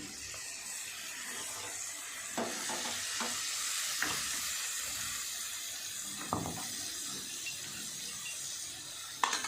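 Spices with a spoonful of chili powder and whisked sour yogurt sauté in a pan for a bhangar fish kalia, giving a steady close sizzle broken by a few scrapes and knocks of a stirring utensil.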